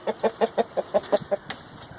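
A large Dominique rooster clucks in a quick, even series of about eight calls, fairly close, followed by softer fading clucks.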